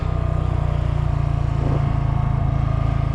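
A motorcycle engine drones steadily and loudly at close range while being ridden, a constant throbbing hum with slight shifts in pitch and no talking.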